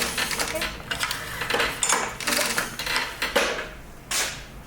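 Spring-loaded pull-cord starter being wound up by repeated pulls, giving scraping, ratcheting mechanical rattles and clicks in uneven bursts, close and fairly loud.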